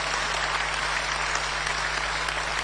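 Applause from an audience for a national chairman at a political address, a dense, even wash of clapping that holds steady with a low constant hum beneath, no voices.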